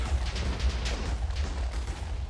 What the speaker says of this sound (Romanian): Hai să vedem ce se întâmplă de la un singur TNT.